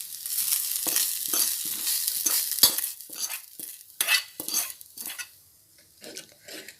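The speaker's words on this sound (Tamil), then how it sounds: "இதை வேக வச்ச அந்த கஞ்சியில் கொட்டிக்கலாம்" Spiced coconut tempering tipped into cooked black rice kanji, heard as a burst of sizzle with clinks and scrapes of a pan and spoon, fading to quieter stirring toward the end.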